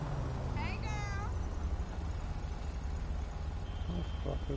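A cat meows twice in quick succession near the start, rising and falling, over constant low rumbling background noise, with faint beeps and brief voice sounds later.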